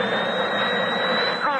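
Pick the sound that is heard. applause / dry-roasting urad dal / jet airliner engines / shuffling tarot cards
jet airliner engines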